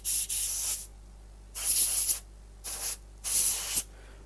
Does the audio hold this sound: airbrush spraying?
yes